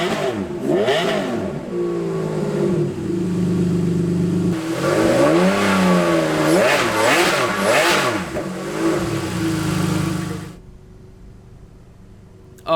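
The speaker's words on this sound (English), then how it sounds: "But let's start up the engine here." A 2004 Enzo Ferrari's engine runs loud and close, rising and falling through repeated revs with a rough, growling tone, then cuts off abruptly near the end, leaving quiet.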